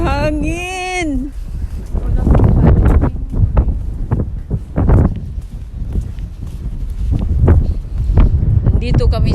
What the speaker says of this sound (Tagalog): Oh, may hangin.